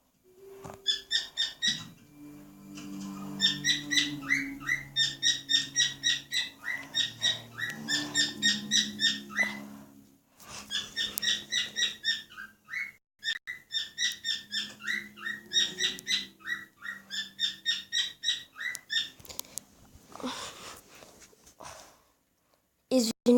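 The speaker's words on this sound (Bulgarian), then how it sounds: "Извинявайте, че в клипа има шумове на папагала ми." A pet parrot gives long runs of rapid, repeated high chirping calls in several bursts, loud and close, over low steady background tones.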